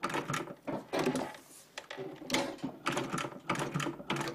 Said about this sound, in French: Le piquage, c'est la couture des différentes pièces.